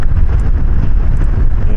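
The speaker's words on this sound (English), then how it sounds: "But it's pretty windy." Strong wind buffets the microphone with a loud, continuous low rumble and gusty roar, no voices.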